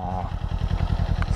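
A Kawasaki Z400 motorcycle engine runs nearby with a rapid, even, low pulsing throb, steady and fairly loud for the whole moment, with no talk over it.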